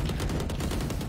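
Rifle gunfire in a video game, a rapid burst of dense, punchy shots in quick succession filling the whole short moment, loud and close with no talking.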